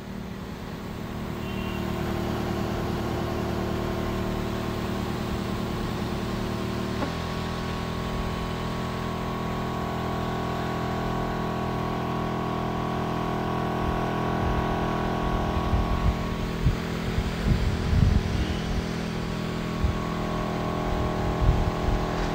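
Hira Gold battery-powered double-motor spray pump running at full pressure, a steady loud motor drone with hissing spray and a shift in tone partway, followed by some scattered knocks and handling bumps.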